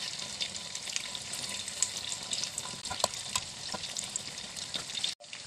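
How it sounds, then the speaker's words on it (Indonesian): Tofu frying in hot oil gives a steady, dense crackle and sizzle with scattered sharp pops, close and continuous until it cuts off abruptly near the end. "Kadang-kadang kalau goreng tahu ini tak panas minyaknya"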